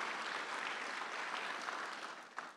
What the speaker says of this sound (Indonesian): Mari kita berikan tepukan untuk Allah kita yang luar biasa